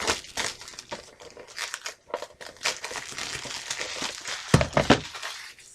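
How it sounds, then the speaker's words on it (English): Plastic shrink wrap crinkles and tears as it is peeled off a VHS tape, a close, busy run of irregular crackles and rips ending with a few louder snaps. "Let's get this one out of the shrink wrap."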